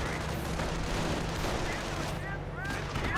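Gunfire rattles through a Company of Heroes battle in a dense, continuous stream of shots and distant blasts, layered under steady game noise and voices.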